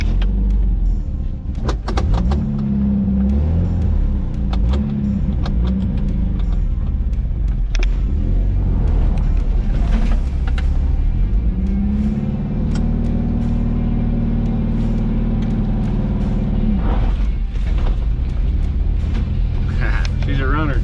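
A 1980s Mazda truck, abandoned for 30 years, idles and rumbles steadily up close with engine hum throughout, shifting tone as it revs; a person talks over it at times.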